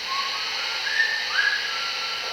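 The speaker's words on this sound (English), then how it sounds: "The whistling was very similar to the tune from the bridge on the River Kwai" Faint thin whistling notes of a tune in a jail, a few short rising pitches over a steady hiss of background noise, distant and sparse.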